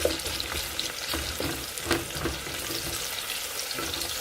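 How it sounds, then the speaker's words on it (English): Garlic sautes over medium heat in a pan, a steady broadband sizzle with a few brief stirring clatters, close and continuous throughout. "We just want to saute."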